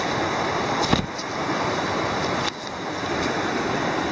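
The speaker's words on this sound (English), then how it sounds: "And now we've come down a 1/10 of a mile to Thoreau Falls." Steady roar of Thoreau Falls, a waterfall beside a White Mountains hiking trail, heard close and continuous with some wind buffeting on the microphone and no talking.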